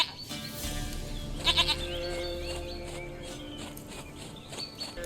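Goat bleating in the Witcher 3 video game, a few wavering bleats close by over a steady ambient game soundtrack, with a short burst of bleats early and quieter calls later.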